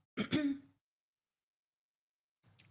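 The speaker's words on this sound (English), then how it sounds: "I need to clear my throat and hold my stomach while I do so" A single throat clearing, two quick harsh rasps close and alone in an otherwise quiet room, followed by a faint breath or small sound after a pause.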